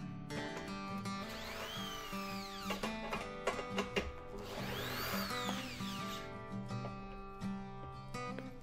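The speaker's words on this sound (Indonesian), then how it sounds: "Untuk melepasnya juga bisa menggunakan bor ini, tinggal diputar arahnya" A Doliz BA632 cordless drill running in reverse whirs steadily with rising and falling motor pitch, punctuated by a few clicking ratchet bursts, close and continuous.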